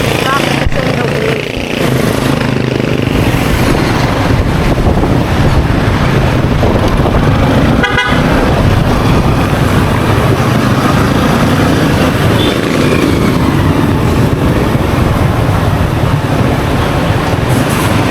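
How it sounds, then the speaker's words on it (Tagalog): Congested street traffic roars loudly and continuously, with engines and wind buffeting close by. One short car horn honk cuts through partway. "medyo traffic talaga siya eh oh"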